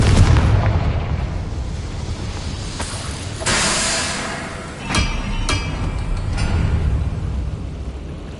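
Confringo fire spell blasts in Hogwarts Legacy gameplay: a few sharp booming explosions with hissing bursts over a steady game-music and ambience bed, no speech.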